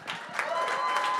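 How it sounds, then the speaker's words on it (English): A brief burst of audience applause, a crowd clapping steadily at moderate volume at a startup pitch event. "give a round of applause to Christian with Johnny on it"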